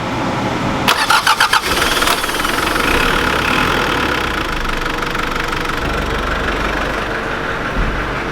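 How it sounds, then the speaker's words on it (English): A 1993 Mitsubishi Delica L300 turbo diesel cranks with a quick burst of starter clatter, then catches and settles into a loud, knocking diesel idle, close up and alone. "Alright, fire it up."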